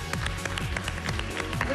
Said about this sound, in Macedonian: И ова е нашиот аплауз за вас